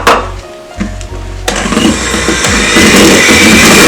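A handheld electric mixer whisks icing sugar and starts up after a brief stutter, then runs at a loud steady whir that grows slightly louder toward the end.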